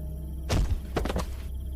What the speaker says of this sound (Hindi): तभी मंदिर के बड़े दरवाजे पर किसी ने जोरदार वार किया